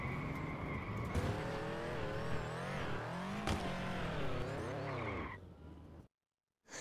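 A rally car in the CarX Rally mobile racing game drives hard, its engine revving and rising and falling in pitch while the tires skid and squeal, loud and continuous, then cutting abruptly to silence near the end.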